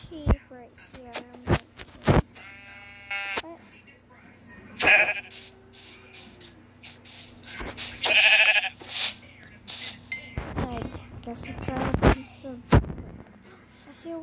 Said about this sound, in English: Ooh, there's a brown sheep right here.